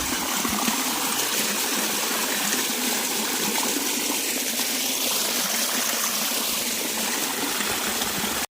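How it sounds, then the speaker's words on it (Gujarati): Water from a solar-pumped well pours steadily into a trough, a loud, continuous rushing gush that holds unbroken and alone to the end. "આ સાઈડ જો પાણી ચાલુ છે સોલારનું કૂવામાંથી. જોઈ લો મસ્ત મજાનું હવેડામાંથી પાણી આવે"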